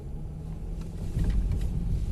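A Mercedes GLE driving through a puddle on an icy road: a steady low engine and tyre rumble that swells toward the end as the wheels push through water and ice, with no talking.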